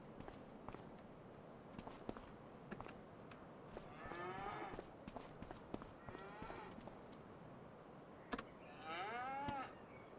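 Cattle moo in Farming Simulator 25 on a farm where the cows are being fed silage, several drawn-out moos at a distance over faint clicking footsteps and steady background noise.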